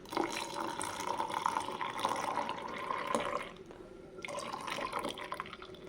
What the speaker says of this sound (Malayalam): തണുത്ത പാലൊഴിച്ചു.